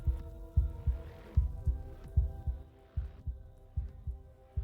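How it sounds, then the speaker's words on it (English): A heartbeat from the video game Slay the Princess thumps in steady paired beats over a low hum, clear and prominent with no talking. "Her heartbeat is bumping."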